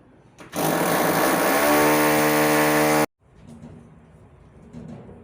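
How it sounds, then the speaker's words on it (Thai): A loud power drill whirs at high speed for about two and a half seconds, drilling a hole for a drain pipe to a grease trap, then stops abruptly, leaving faint background clatter. "เจาะรูก่อนล้างจานนะครับ"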